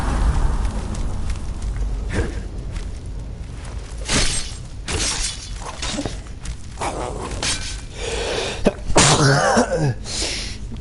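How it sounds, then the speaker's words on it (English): A man with a cold sneezes once, loud and close, over Skyrim game combat with thuds, impacts and clattering effects scattered throughout. "I've got a bit of a cold, so I'm gonna be sneezing every so often."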